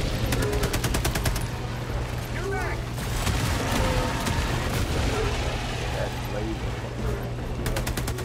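Rapid bursts of heavy autocannon fire in Helldivers 2, repeating in quick rhythmic volleys at the start and end over a dense, noisy battle backdrop.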